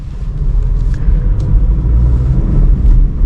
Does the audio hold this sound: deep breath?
no